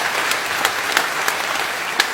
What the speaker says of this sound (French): Je voudrais qu'on fasse un tonnerre d'applaudissements à Kevin Tonelli.